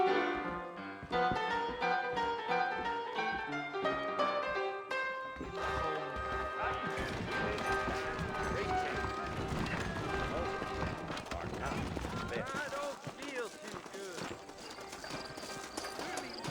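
Horse hooves clip-clop along a trail at a steady trot in the video game Red Dead Redemption, accompanied by music and a brief whinny, with voices talking over parts of it.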